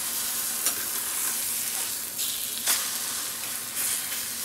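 Eggs fry in a pan, a steady close sizzle running throughout with a few brief scraping stirs as the eggs are turned and flipped, no talking.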